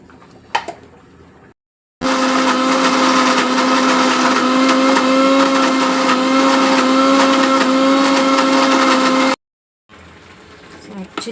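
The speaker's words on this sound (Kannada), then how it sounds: "ಸೊ ಅದಕ್ಕೆ ನಾನು ಹಾಟ್ ವಾಟರಿಂದ ಗ್ರೈಂಡ್ ಮಾಡ್ತೀನಿ." An electric mixer-grinder blending Byadagi chillies and garlic with hot water into a paste: a loud, steady whirring motor hum running continuously for about seven seconds, with quieter kitchen handling noise before it starts and after it stops.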